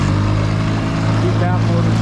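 A 1987 Arima Seachaser motorboat's engine drones loud and near as the throttle opens, a steady low rumble over water with someone talking over it.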